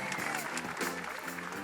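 Steady audience applause at a racing event honoring racer Tommy Quinn, an even wash of clapping throughout with faint crowd noise.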